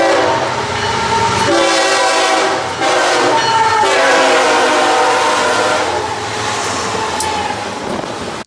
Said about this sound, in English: All right, some very nice horn action from the engineer.